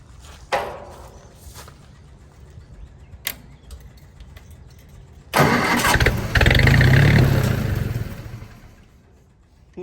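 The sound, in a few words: army generator engine cranking and trying to start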